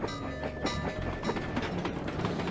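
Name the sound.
passing train in video game Sly 2 Band of Thieves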